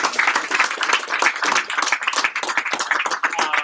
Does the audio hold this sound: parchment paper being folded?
no